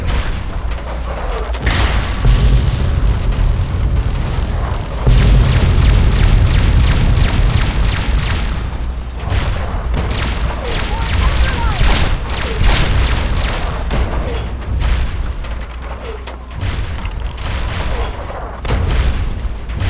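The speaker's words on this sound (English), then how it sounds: "Warning. Forcible impact alert. Scanning for Chinese artillery." Heavy artillery explosions and impacts in Fallout 3 rumble loudly and almost without pause, with deep booms and rattling blasts, while a robotic voice makes announcements over the barrage.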